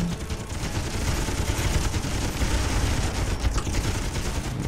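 Rapid bursts of gunfire in the space mining game Miner Wars 2081, a dense rattle of repeated shots lasting several seconds at steady loudness, with no talk over it.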